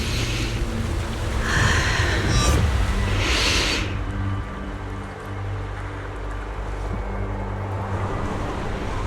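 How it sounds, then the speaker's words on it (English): Wind gusts through a Zenless Zone Zero game scene in a broad, roaring rush that swells and surges for a few seconds, then settles into a lower, steadier blowing, with no voices heard. "The wind. It's shifting."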